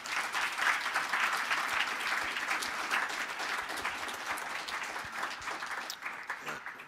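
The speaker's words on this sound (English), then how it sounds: "I want a round of applause for our panelists." Audience at a public panel on Toronto housing applauding the panelists, a steady wash of many hands clapping at moderate distance throughout, with faint voices underneath.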